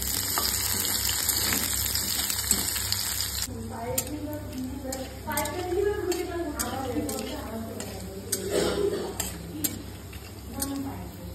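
Ingredients for paneer masala fry in a pan with a steady sizzle and scattered stirring clicks, while someone talks over the cooking.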